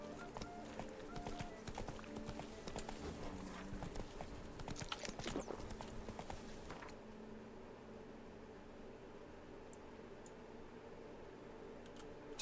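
Roach, a horse in The Witcher 3, gallops with rapid, steady clip-clop hoofbeats over a game soundscape for about seven seconds, then the hooves stop and only a quieter ambient bed remains.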